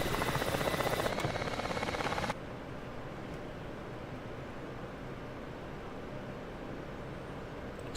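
A Ka-50 helicopter in DCS World takes off, its loud rotor and turbine roar filling the first couple of seconds before dropping abruptly to a quieter, steady engine drone.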